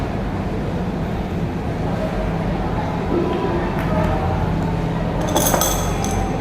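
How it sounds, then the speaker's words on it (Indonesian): A spoon stirs potassium permanganate solution in a glass during a kitchen-chemistry experiment, giving a few light clinks and chinks near the end over a steady background hum. "Kita aduk"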